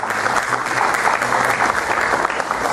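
An audience applauds steadily for a few seconds at a medical lecture on hypertension, a dense, even patter of clapping from a crowd.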